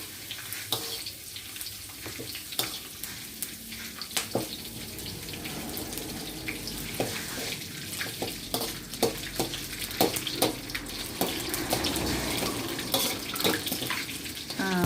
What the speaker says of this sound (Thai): จะทอดใบมะกรูดให้กรอบนะคะ